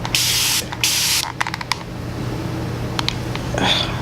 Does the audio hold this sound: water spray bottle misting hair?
yes